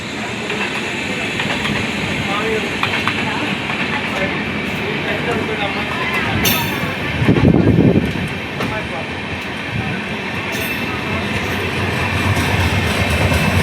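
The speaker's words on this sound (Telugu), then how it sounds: "మొత్తానికి ఆ ట్రైన్ వెళ్ళిపోయింది." A train passes on the main line beside a slow passenger train, a continuous loud rumble with clickety-clack of wheels on rails and a brief louder burst midway, while people talk over it.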